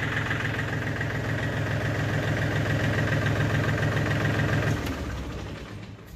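A 2002 John Deere 790 compact tractor with a Yanmar diesel engine idles steadily and close by, a low rhythmic knocking rumble that drops off near the end as the engine winds down.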